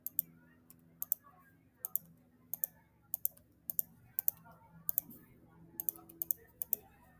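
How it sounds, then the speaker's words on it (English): Numbers are typed on a computer keyboard while entering spreadsheet data, giving clear, fairly close key clicks in quick pairs and small bursts at a steady pace over a quiet low hum. "I'm just going to type in any numbers between 1 and 10."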